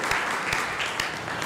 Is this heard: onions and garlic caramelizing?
no